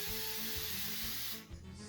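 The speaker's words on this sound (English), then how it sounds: "And then give it a pretty good liberal spray." Cooking spray hisses onto cake pans in a long steady burst that stops near the end, with a short quieter spritz after it.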